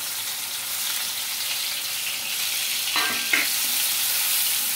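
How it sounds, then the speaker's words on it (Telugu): Steady hiss of onions frying in hot oil until browned for drumstick masala curry, a broad continuous sizzle with a brief stirring scrape near the end; no voices. "ఉల్లిపాయలు బాగా బ్రౌన్ కలర్ వచ్చే వరకు ఫ్రై చేసుకోవాలి ఆయిల్లో"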